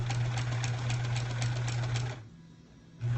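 Sewing machine stitching a quilt block, a close steady motor hum with rapid needle chatter for about two seconds, then a brief pause before it starts again.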